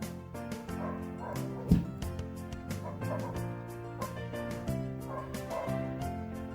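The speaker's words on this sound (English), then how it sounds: "They won't stop barking." Several dogs bark out in the street, a steady run of yips and woofs at moderate distance, with clucking fowl mixed into the background.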